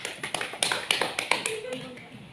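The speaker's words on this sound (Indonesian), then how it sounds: "kita beri aplaus untuk kelompok 2" Brief classroom applause for a student group, a short run of light, quick claps that fade out within a couple of seconds, near and fairly soft.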